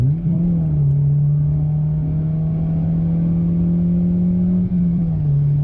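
An engine-swapped old school Ford pulls away with a loud, steady low engine drone heard from inside the car, holding an even pitch with a slight dip near the end.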